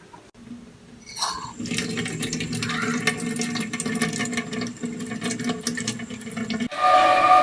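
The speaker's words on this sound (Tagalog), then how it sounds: "Ba't bumukas yung gripo?" A faucet turned on during a power outage pours water steadily into a basin, a constant close splashing rush that starts after a second of quiet and continues to the end.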